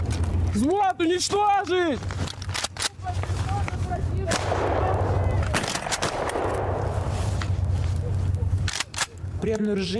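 Rifle fire from a female soldier platoon engaging enemy soldiers cracks out in sharp, scattered shots, some in quick bursts, mixed with loud shouted voices nearby.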